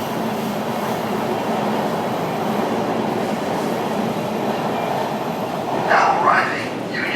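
Los Angeles Metro Rail subway train pulling into Union Station, a steady loud rumble of wheels and car noise throughout, with a brief higher screech of braking near the end.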